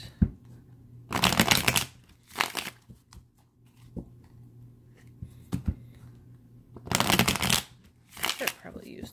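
A deck of playing cards is riffle-shuffled in several loud bursts of rapid fluttering clicks, with quieter handling sounds and occasional talk in between.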